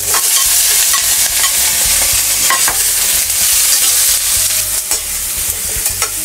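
King fish stirred while frying in a little oil in a pan, with a loud, steady sizzle and scraping stirs, close up and without talk.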